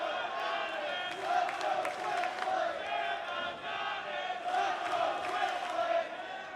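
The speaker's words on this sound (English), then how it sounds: "And listen to that crowd." Large wrestling stadium crowd roaring and cheering at a night event, a continuous loud wash of voices with swells and some scattered clapping, steady throughout.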